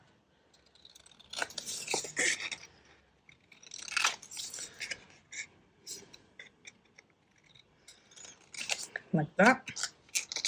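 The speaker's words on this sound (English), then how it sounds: "I am going to cut off these corner pieces" Scissors snip off the corner pieces of scored paper for a window tag with pockets, several short crisp cuts in bursts, with a person talking in between.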